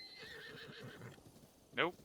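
A horse in Zelda: Breath of the Wild on Switch 2 lets out one loud, short whinny near the end, after a stretch of game music and ambience under a voice.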